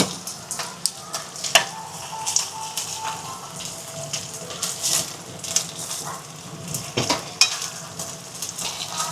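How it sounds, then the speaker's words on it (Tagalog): Food sizzles and fries steadily in a home kitchen in Japan while a utensil stirs and scrapes through it, with scattered clinks over the continuous crackle and no talking. "Magkasama kami nagluluto."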